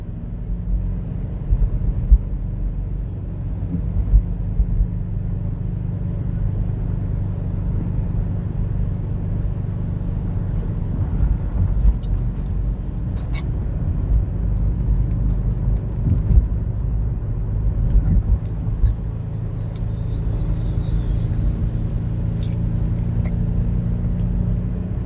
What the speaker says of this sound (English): I'm driving on Kamehameha Highway.